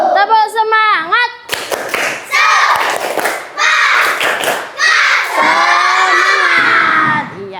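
Schoolchildren in a classroom do a rhythmic Indonesian spirit clap chant: bursts of sharp unison clapping mixed with shouted and chanted voices, coming in several loud waves.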